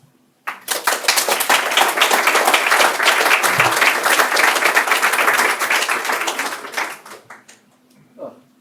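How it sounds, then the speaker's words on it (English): Conference audience at the ROSCon France 2023 keynote applauds the sponsors, close, crisp clapping that starts abruptly, holds for about six seconds and tapers off, followed by a brief voice. "I think we should give another round of applause for our sponsors"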